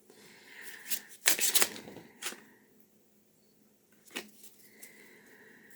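A Woodland Wardens oracle card deck is shuffled in a few brisk riffling bursts, close and crisp, with a quieter shuffle afterward and short pauses between.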